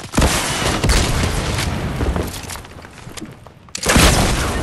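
Loud booming gunfire and explosions from a team shooter game, heavy bursts at the start, a sustained rumbling barrage that fades toward the middle, then another loud blast near the end.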